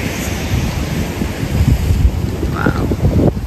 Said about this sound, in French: l'eau, elle éclabousse jusqu'ici